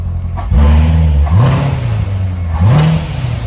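A 2019 Corvette Grand Sport engine with exhaust in track mode barks and revs loudly, settling into a deep burbling idle between two sharp throttle blips, close by.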